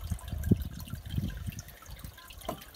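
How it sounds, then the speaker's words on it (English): Amaretto being poured into a champagne flute, a short soft liquid trickle with a couple of small splashy bursts, close and quiet, no talking. "you're going to take your Amaretto, and you're going to put about 25 mils into a champagne flute"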